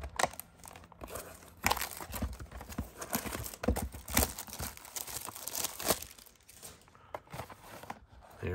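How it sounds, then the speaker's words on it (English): Plastic wrapping is peeled off a Bowman blaster box of trading cards, making close, crisp crinkling and tearing in irregular bursts with no one talking. "Take the packaging off the plastic."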